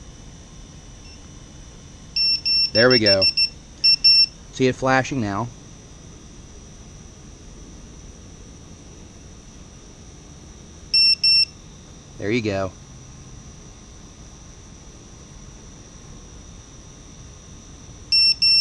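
A Vifly Beacon anti-theft alarm emits short, sharp high-pitched beeps in clustered bursts separated by quiet stretches, with a person speaking briefly between them.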